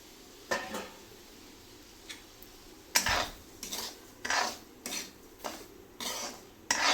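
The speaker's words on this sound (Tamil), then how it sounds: "இப்போ நம்ம எடுத்து வச்சுருக்க ரவையை வந்து நெய்யில் போட்டு வறுத்து எடுத்துக்கலாம்" Semolina (rava) roasting in hot ghee in a pan, with a run of sharp metal spoon scrapes and clinks against the vessel, spaced irregularly and close up, over a faint background sizzle.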